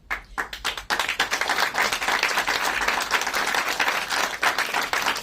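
Sustained audience applause at a political press event on immigration policy, a dense wash of many hands clapping loudly and steadily after a brief pause at the start.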